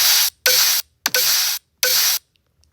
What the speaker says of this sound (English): It has 2 snares of different octaves.